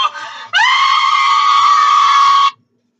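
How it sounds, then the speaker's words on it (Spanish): A child screams in one loud, sustained, high-pitched cry that lasts about two seconds, preceded by a short burst of noise and then broken off into silence. "un niño gritando"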